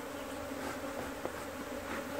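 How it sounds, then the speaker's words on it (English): Steady, dense buzzing of many agitated honey bees swarming close by, a continuous droning hum with no voices. "these bees are really cross, I'm telling you."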